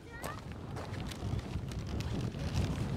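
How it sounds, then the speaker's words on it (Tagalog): Steady wind buffets a boat carrying a crowd, a constant low rumble of gusts across the deck with people chattering faintly beneath. "Mahangin lang."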